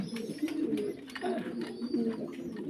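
Fancy pigeons at a pigeon farm in Faridpur, giving soft, repeated cooing calls close by, with a low steady hum of the coop around them and no talking.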